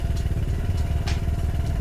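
A WMoto ES250i 250 cc scooter idles steadily with a low, even engine rumble and faint clattering, the sound continuous and close with no speech.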